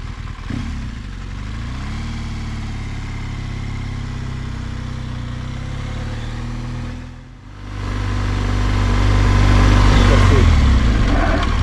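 A BMW R1200GS motorcycle engine idles steadily, then rises loud as the bike accelerates on a dirt road after a brief dip, with continuous close engine drone throughout.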